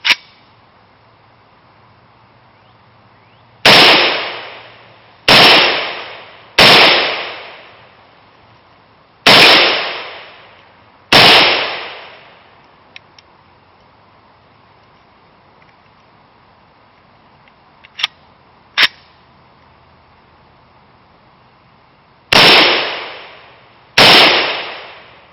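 An AR-15 rifle firing cast bullets at a steel plate outdoors, heard as seven loud, sharp reports in uneven groups, each trailing off in a ringing decay, with long quiet gaps and a couple of faint clinks between them.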